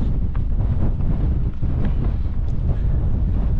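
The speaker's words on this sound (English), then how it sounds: "But yeah, a bit windy on the tops now." Strong wind buffets the microphone on the rocky north ridge of Tryfan in Snowdonia, a loud, continuous low roar with gusty fluctuations throughout.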